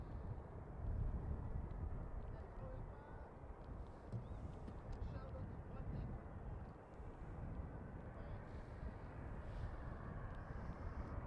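An Embraer E195-E2 airliner arriving from Warsaw lands on runway 18R at Schiphol in winter conditions. Its engines make a steady, loud, broadband roar that fills the whole stretch, with no talk.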